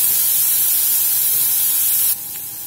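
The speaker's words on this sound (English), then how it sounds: "Get a little oil in the skillet. We'll drop this diced ham in here." Diced ham sizzling in oil in a skillet: a steady, loud, bright hiss of frying throughout, which drops suddenly to a quieter sizzle near the end, with no talk.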